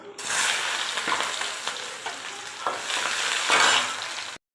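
Chopped onion drops into hot oil with mustard seeds for an eggplant and potato stir-fry, setting off a loud, steady sizzle with occasional stirring scrapes before it cuts off abruptly.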